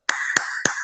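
Three sharp, evenly spaced claps of a "tepuk salut" hand-clapping pattern, close and crisp with ringing tails between them, alone without talk.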